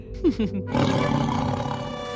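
A lioness roars in a Tamil TV episode, starting with a short growling rise and swelling into a loud, sustained roar up close.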